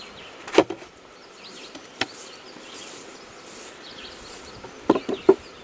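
Honey bees humming steadily around an open beehive during a mite check, a dense continuous buzz close by, broken by a few sharp knocks and clicks from handling the hive.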